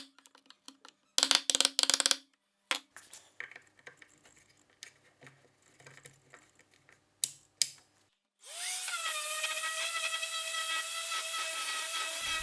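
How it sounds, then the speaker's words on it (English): Wood being worked for a make-up mirror frame: scattered sharp taps, scrapes and bursts of chiseling and handling, followed by a loud, steady whine of a drill boring a hole, close and alone. "I drilled a hole with a drill bit and square it using some chisels"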